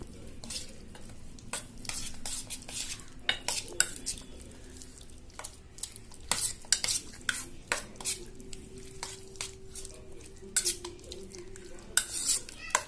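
Chicken popcorn pieces are mixed with marinade and a spoonful of cornflour in a bowl, giving repeated scraping and clinking strokes at a steady, close rhythm with no voices.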